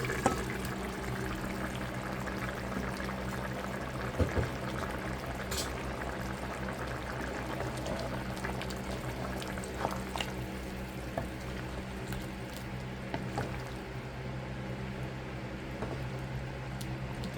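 Eggs simmer in reduced curry gravy with a steady, close bubbling and gentle liquid churn that runs without pause, with a few soft clicks and no one talking.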